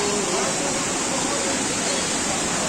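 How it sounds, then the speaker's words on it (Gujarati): Water pours steadily over the waterfall at the Galadhara Khodiyar dam, a dense, loud, continuous rushing roar close by. "ખૂબ જ સુંદર મજાનો ધોધ અહીં પડી રહ્યો છે"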